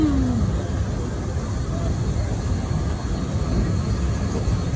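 Constant low rumble of a moving train, steady rolling noise heard from inside, with no distinct events standing out.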